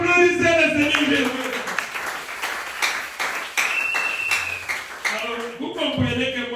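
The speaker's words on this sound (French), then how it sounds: "Applaudissez le Seigneur Jésus." A church congregation at a Tuesday service claps for the Lord Jesus in a steady burst of applause, fairly close, with voices and exclamations mixed through it.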